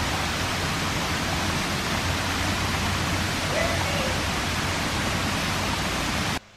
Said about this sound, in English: It was impressive to see the water bubbling up not just from the head spring